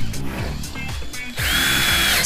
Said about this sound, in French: je fais des trous plus ou moins tous les 50 cm avec une mèche à bois de 8 mm